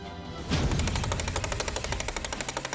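Robotic drill from Honeybee Robotics, mounted on a robotic arm, grinding into rock: a loud, steady rapid hammering that starts abruptly and keeps a pulsing, percussive rhythm throughout.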